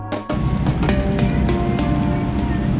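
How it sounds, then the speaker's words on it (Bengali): Heavy rain pours onto the open water of Tanguar Haor during a boat trip, a dense steady patter with a low rumble underneath, loud and close after a short quieter start. "হঠাৎ করেই হাওরের বুকে নেমে এলো ঝুম বৃষ্টি জলের উপর বৃষ্টির টুপটাপ শব্দ"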